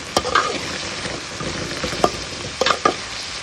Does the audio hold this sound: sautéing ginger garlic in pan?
yes